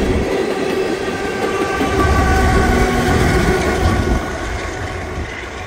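A freight train passes close on the rails outdoors, a loud continuous rumble with rhythmic wheel clatter and some high squeal, fading slightly at the end.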